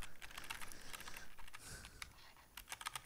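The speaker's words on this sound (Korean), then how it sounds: "내 찰진 키보드 소리를 들으라고요" Rapid computer keyboard typing during a game session, a quick run of crisp clacking keystrokes, close and fairly quiet, with no speech.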